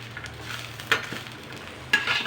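Peanuts, garlic and green chilies roasting in a pan, a quiet sizzle with two sharp metallic scrapes of a spoon stirring them.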